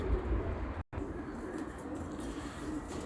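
Pigeons from a fancier's flock in İzmir coo in low, steady murmurs close by, with a brief dropout partway through.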